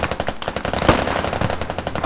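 Rapid automatic gunfire bursts continuously in a fast, loud rhythm, like a machine gun firing in the video game Squad.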